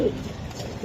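A pair of pigeons coo softly near the microphone, the low rounded calls running under a steady background hum.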